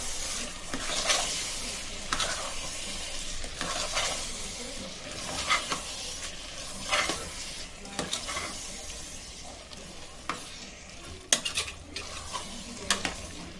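Ground spice masala is stirred into frying biryani in a pot. A spoon scrapes and clinks in repeated strokes over a steady soft sizzle, close and moderately quiet.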